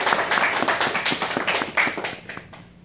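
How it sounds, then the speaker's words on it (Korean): During a Sunday church service, the congregation claps in welcome for a visiting member, a short burst of close, uneven clapping that fades out toward the end. "우리 한번 박수를 한번 큰 환영의 박수 하도록"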